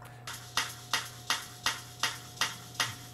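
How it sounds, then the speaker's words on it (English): Dolphin echolocation clicks returning as echoes off an underwater mine and the seabed around it; about eight sharp clicks at a steady rhythm with a faint hum beneath, moderately loud and alone. "Now you are hearing the echo of the mine and the land around the mine."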